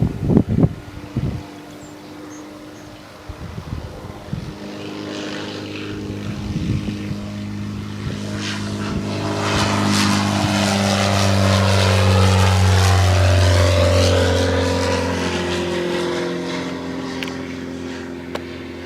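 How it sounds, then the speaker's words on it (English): A Quickie Q2, a lightweight homebuilt two-seat propeller aircraft, drones steadily and grows louder as it passes close by, its engine tone holding low and strong, with a bright wash of prop and wind noise swelling and fading. "The Quickie Q2 is a lightweight, high-efficiency aircraft which seats two side by side."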